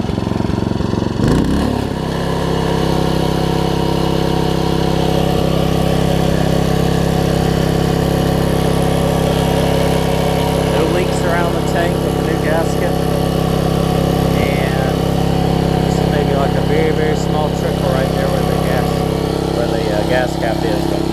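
A Troy-Bilt Tuffy tiller engine idles close by with a loud, steady, even putter that runs without a break.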